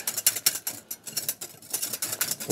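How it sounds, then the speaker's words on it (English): Eggs and milk are whisked briskly in a bowl, making a quick, rhythmic run of light clicking and tapping strokes, close up and fairly quiet, with no voices. "And just a little bit of a whisk."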